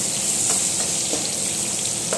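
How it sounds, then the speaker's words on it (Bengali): Cut potato pieces frying in hot oil for a crab curry, a loud, dense and continuous crackling sizzle heard up close, with faint stirring touches and no voices. "আলুটাকেও এইভাবে কেটে ভালোভাবে লাল লাল করে ভেজে নিচ্ছি"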